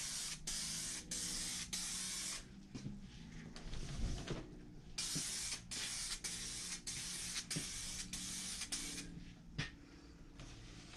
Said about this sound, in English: Basically, we're fogging it, light coat.